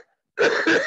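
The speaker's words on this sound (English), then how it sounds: "I should not cough when I'm being recorded" A single short cough from a man giving a Talmud lecture, close to the microphone, following a brief silence.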